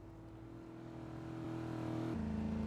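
A car engine in the video game Giant Mansion Tycoon gives a continuous, steadily rising revving drone that holds at a constant pitch, with no distinct crash impact standing out.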